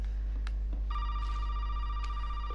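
A telephone rings during a call in a horror video game, a clear sustained electronic ring tone starting partway in and holding steady over a low background hum, with faint clicks and noises around it.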